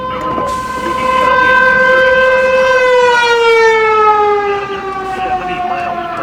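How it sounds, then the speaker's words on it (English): A loud civil defense siren wails steadily, its rising-and-falling tone sustained throughout with rich harmonics, then slowly dropping in pitch near the end. "we got interrupted by some EAS and another siren activation"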